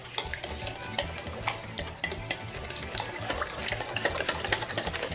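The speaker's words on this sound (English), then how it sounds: "with our whisk, we're just going to mix everything together" A whisk beats cheddar cheese bread batter in a bowl, making rapid, close, continuous clinking and swishing strokes with no talking.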